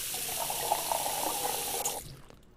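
Water pours from a tap into a pot in the video game Cooking Simulator, a steady splashing rush for about two seconds that then cuts off abruptly, close and moderately loud.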